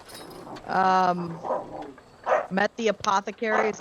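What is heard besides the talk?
dog barking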